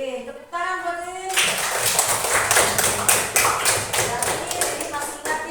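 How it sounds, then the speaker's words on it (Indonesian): Classroom applause for a pupil named Rin after a lesson on prophets and messengers: after a brief spoken moment, a burst of scattered hand clapping from a group breaks out and continues steadily, fairly loud and close. "Tepuk tangan buat Rin"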